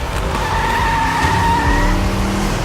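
A drifting car with a MagnaFlow exhaust screeches its tires in a long, steady skid, with the engine roaring loud and close beneath the squeal throughout.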